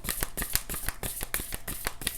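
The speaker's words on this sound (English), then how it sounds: "This deck is so massive. It's hard to shuffle." A large, oversized tarot deck is shuffled by hand, producing a rapid series of crisp riffling and slapping card bursts in a fairly steady rhythm, close and alone.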